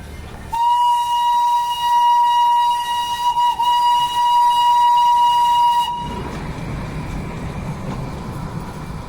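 A loud, steady steam whistle from a toy train near Ghoom Monastery and Batasia Loop blows for about five seconds, then cuts off, leaving the rumble and clatter of the small train running along the track.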